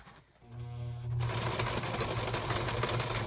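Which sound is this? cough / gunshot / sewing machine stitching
sewing machine stitching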